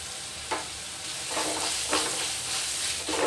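Onions sizzle and fry in hot oil, with a few scraping stirs at intervals and no voices.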